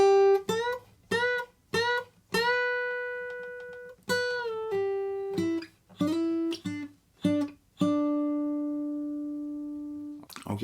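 A slow, clean electric guitar lick, picked note by note with short gaps and slides between pitches, each tone ringing and decaying alone, the final note held long.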